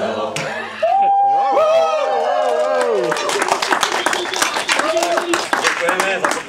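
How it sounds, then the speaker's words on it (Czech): Audience applause after a village choir performance in Zašová, heard after sung or spoken voices fade; dense clapping builds and continues at a lively, fairly loud level to the end. "Děkujeme za potlesk samozřejmě."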